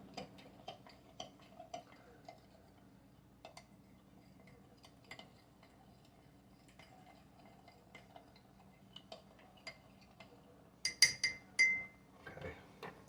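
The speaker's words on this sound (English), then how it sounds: "And we'll stir that around." Apple pie filling stirred in a pot on a stovetop, with soft irregular clinks and scrapes of a utensil against the pot, faint and close, plus a brief louder clatter near the end.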